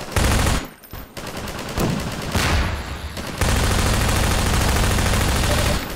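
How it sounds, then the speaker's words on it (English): Pulse rifle fire in Half-Life 2, loud, dense automatic bursts, close and continuous, broken by a couple of short gaps, with no talk. "Pulse rifle."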